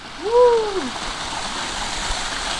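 A small waterfall in Langkawi gives a steady, moderately loud rush of flowing water throughout, with a brief tonal voice-like sound rising and falling near the start.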